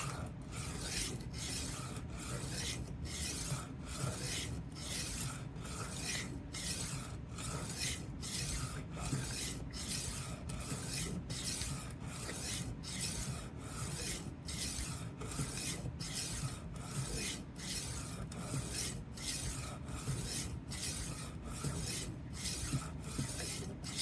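A 12-inch Henckels chef knife is drawn over a sharpening surface in steady, evenly spaced strokes, each a short abrasive rasp. The strokes repeat at a regular rhythm, close and fairly quiet, with no voices.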